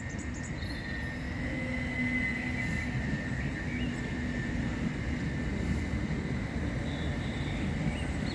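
A Southern Railway class 377 electric train, unit 377101, pulls into Havant station with a steady rail rumble and a faint high electric whine. The sound holds at a constant level throughout, with no talk.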